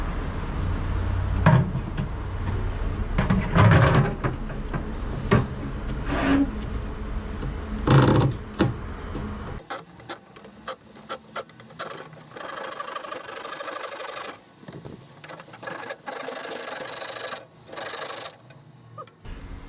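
A power saw cuts a circle slightly wider than marked out of a laminated glued wood board for a homemade tennis ball launcher. The close, loud, rapid buzzing chatter runs with brief pauses and changes tone partway through.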